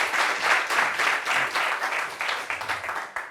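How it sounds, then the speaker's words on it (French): A studio audience on a talk show applauds to welcome a psychologist onto the stage. The clapping is dense and continuous, staying loud and even from start to finish. "Ovation pour lui, s'il vous plaît. Ovation, c'est notre psychologue"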